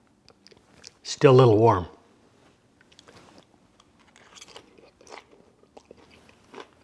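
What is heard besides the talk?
crunchy sauteed green beans with toasted almonds being chewed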